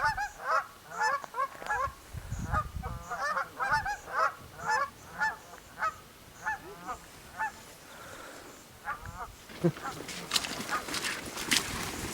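Dusky Canada geese honking repeatedly in a group during a banding session, a steady run of nasal honks close by over a busy outdoor background, with a burst of louder rustling and noise near the end.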